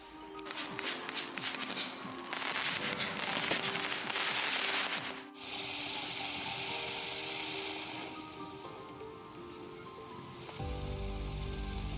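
Consumer fireworks from a Gold Selection Box, a loud continuous barrage of crackling and fizzing with dense popping bursts, shifting to a hissing, whistling display and then a deeper rumbling burst, no voices.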